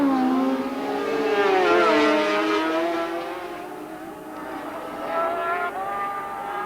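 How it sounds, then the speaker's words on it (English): Sidecar racing motorcycle engines roar down a back straight, a loud high-revving whine that climbs and shifts pitch as the machines pass, with a second rising note trailing behind toward the end. "It seems that Vic Jefford's engine is just so quick down that back straight"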